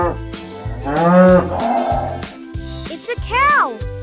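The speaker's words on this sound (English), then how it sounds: "It's a cow!" A cow moos repeatedly in long, loud, drawn-out calls close by, rising and falling in pitch, with a steady rhythmic thumping beat running underneath.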